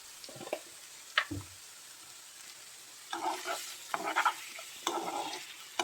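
Forest mushrooms with a splash of oil in a pan being stirred, with faint sizzling and a few scraping clinks of the utensil, quiet and close, with no talking.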